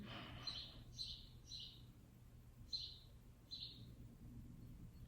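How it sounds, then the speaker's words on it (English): Several short bird chirps ring out in separate bursts over a low steady background hum, fairly faint and spaced irregularly, with no talking. "I'm hearing birds right now, both literally"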